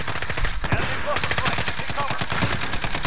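Rapid bursts of video game gunfire rattle almost continuously, loud and close, with dense repeated shots like automatic weapon fire filling the scene.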